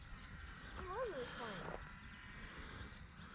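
A Volantex T-28 RC model airplane flies with a faint, steady high electric-motor whine, heard at a distance along with a brief warbling vocal sound.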